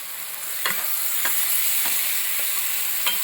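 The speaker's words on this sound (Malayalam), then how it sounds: "ഇളക്കി കൊടുക്കും. ഒന്ന് ഇളക്കി കൊടുക്കും." Potatoes fry in a pan for vegetable kurma, with a steady close sizzle and a spoon scraping through them in about four regular stirring strokes.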